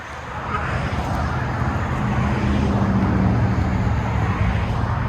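A 2020 Chevy Silverado 6.2L V8 with Magnaflow exhaust idles and rumbles while backing out, a steady low engine drone that grows slightly louder and holds, nearby and without talk.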